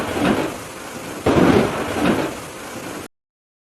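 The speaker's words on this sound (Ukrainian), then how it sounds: "Так, мелодія грози." A thunderstorm with rolling thunder and steady rain: loud, close rumbling cracks swell and fade in several waves over a constant hiss of rainfall, with no voices.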